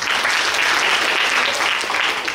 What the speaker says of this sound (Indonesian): Tepuk tangan untuk ketiga.